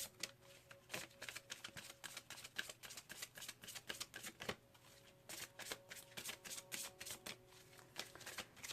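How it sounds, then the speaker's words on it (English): Oracle cards from a deck are being drawn and shuffled, giving soft, close papery riffles and flicks in quick irregular bursts with brief pauses, quiet and without talk. "Let's pull one card from the top and one from the bottom."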